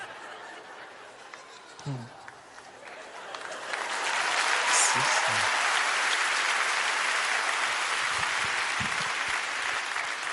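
After a few seconds of quiet with a brief voice, a gala comedy audience bursts into sustained applause that continues steadily to the end, with some chuckling.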